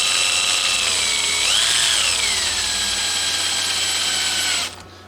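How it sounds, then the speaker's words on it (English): A power drill with a regular wood bit whines steadily as it bores, during a carbon fiber guitar repair, pitch dipping briefly under load, then cuts off abruptly near the end. "so I got a regular wood drill bit"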